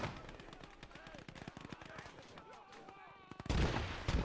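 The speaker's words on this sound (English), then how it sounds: "A lot of grenades going off at the minute" Rapid gunfire crackles in the Gates of Hell: Ostfront battle, with a dense run of cracking shots and a heavier grenade blast near the end, mostly distant and mid-level in volume.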